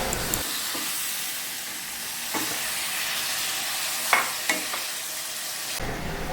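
Mango pieces with tamarind and spices are stirred together in a pan, giving a steady soft sizzle and hiss with a few scraping knocks of the spoon.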